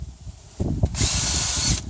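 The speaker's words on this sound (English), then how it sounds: "cleaning this bracket off with a drill and a wire brush" A power drill spins a wire brush against a rusty brake bracket from an Audi A4 Quattro, a few short bumps first, then a loud, steady whirring scrub lasting about a second.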